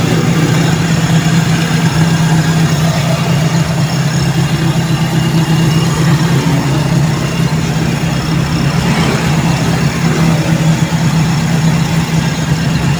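A carbureted Toyota Corolla 4AF engine idles steadily with a low, constant hum and rumble, loud and close, with no voices over it.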